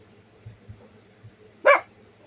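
A single loud, close dog bark rings out clearly after a few soft low thumps, with no talking.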